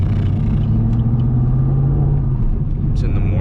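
A tuned 2018 Chevrolet Camaro cruises along with a low, steady engine drone and road rumble heard from inside the car. Constant and moderately loud, with a couple of faint clicks near the end.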